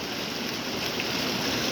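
Natural spring water flowing strongly after heavy rain, a steady broad rushing wash with no breaks, moderately quiet and unaccompanied by voices.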